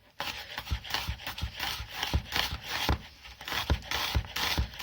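A knife slicing an onion into thin strips on a cutting board, a close run of rhythmic cuts with crisp scraping strokes and regular knocks against the board.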